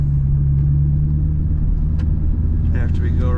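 Steady low exhaust rumble from a 2007 Chevrolet Corvette Z51 coupe cruising on the road, heard from inside the car with the window open, with a brief higher tone near the end.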